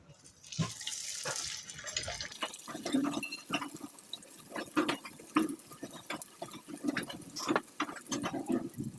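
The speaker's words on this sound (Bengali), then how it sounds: "তেল গরম হয়ে গেছে, এখন লুচি দিয়ে দিচ্ছি।" Luchi puffed flatbread fries in hot white oil, giving a quiet, continuous sizzle with frequent crackling pops and bubbling bursts and no voices over it.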